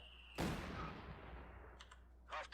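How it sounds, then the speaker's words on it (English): A mortar barrage hits a tank in the Company of Heroes 2 video game, with a sudden loud blast and a long rumbling decay. A few faint, sharp clicks follow later, and no one talks. "We'll just mortar barrage it until it's dead."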